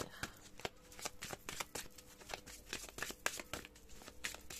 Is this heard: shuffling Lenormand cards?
yes